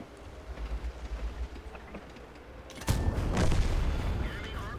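Tank gun firing in World of Tanks, a single sharp boom partway through with a rolling rumble and crackle afterward, over steady engine hum.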